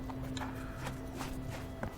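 A horse's hooves clip-clop in a video game, a handful of light, evenly spaced hoof strikes over a steady background hum.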